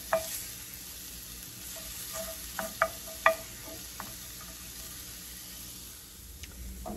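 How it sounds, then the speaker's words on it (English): Chopped onion and garlic sauté in melted butter over medium-high heat, giving a quiet, steady sizzle with a few sharp clinks and scrapes of a utensil stirring in the pan. "I'm gonna add my onion and my garlic. And I am just going to saute that"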